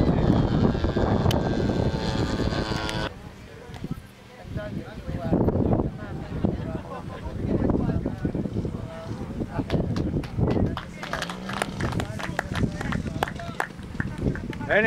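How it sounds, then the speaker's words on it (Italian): A radio-controlled Junkers Ju 87B Stuka warbird model flying and landing at an RC model airfield meet, its propeller engine droning steadily at a distance, mixed with crowd noise and an announcer talking. "abbiamo avuto atterraggio anche dello Stuka"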